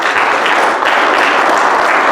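A church congregation applauds, a dense, loud, steady wash of many hands clapping together without pause.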